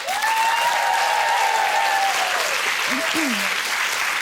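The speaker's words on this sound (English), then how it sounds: "Give him a round of applause." Studio audience applause fills the clip, steady and sustained, on a daytime TV talk show, while a voice carries on over it with rising and falling tones.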